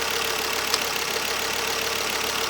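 A Ford Focus RS engine idles after new spark plugs are fitted, a steady, even hum with one brief tick early on and no voices.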